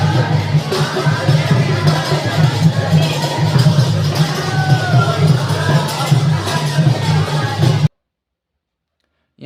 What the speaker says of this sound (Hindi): यहाँ मंदिर में लगी हुई थी भीड़